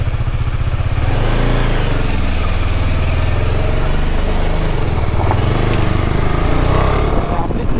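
Orange motorcycle engine running after being started for a road trip, a loud, constant low rumble with a steady throb, heard close up, with a voice talking over it.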